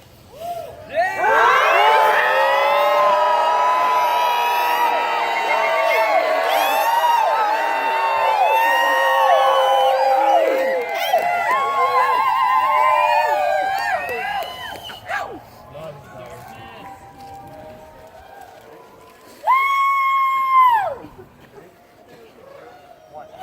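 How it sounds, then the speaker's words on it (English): A crowd at a nighttime memorial fire camp gathering yells and cheers loudly and continuously for about fifteen seconds, then trails off before a second short burst of shouting. "let's yell this motherfucker awake one last time"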